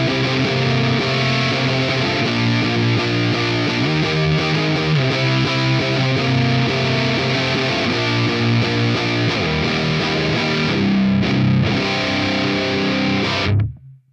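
Fuzzy, distorted electric guitar played dry through a pedal setup with no reverb, sustained chords and riffs ringing loud and steady for about fourteen seconds before cutting off abruptly.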